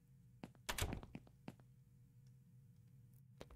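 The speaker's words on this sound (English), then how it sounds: "That was just a door closing there." A door closes in a horror nightshift video game, a dull thunk followed by a few faint clicks in a quiet room.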